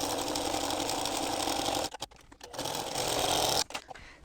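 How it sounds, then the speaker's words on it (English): A sewing machine runs loud and steady, stitching a longer stitch close to the edge of fabric for a two-sided book pillow, with two brief pauses in the whirring drone before it resumes. "I'm going to stitch very close to the edge. I'm going to take a little bit longer stitch length."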